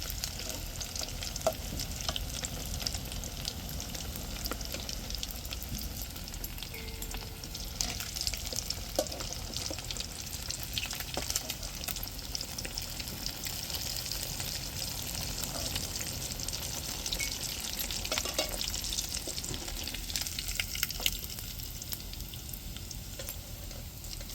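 Marinated yellow trevally (paarai) fish fries in hot oil with a dense, continuous sizzle and crackle that stays loud and even throughout, with occasional faint clinks.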